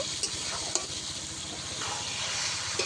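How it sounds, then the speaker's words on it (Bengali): Poppy seed paste frying in a pan while being stirred, a dense continuous sizzle with occasional sharp scrapes of the spatula, close up, with no voices. "দিয়ে দেবো পোস্তটাকে দিয়ে একটু অল্প একটু কষিয়ে নেব"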